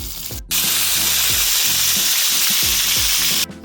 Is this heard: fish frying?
yes